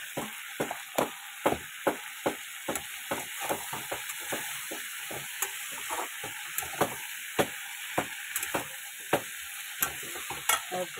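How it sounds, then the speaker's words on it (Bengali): Malabar spinach stems and potatoes fry in a pan with salt and turmeric under a steady sizzle, while a spatula scrapes and stirs in regular, close, sharp strokes. No one speaks. "আর এই যে পুঁইশাকের ডাঁটা, এগুলো ভালো করে একটু ভেজে নিলাম"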